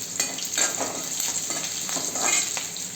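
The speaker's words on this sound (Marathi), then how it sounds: "आता हे लसूण लाल होईपर्यंत परतून घ्यायचं थोडंसं" Garlic sautés in hot oil with curry leaves and chilli for a cabbage and peanut bhaji, a steady close crackling sizzle with faint stirring scrapes throughout.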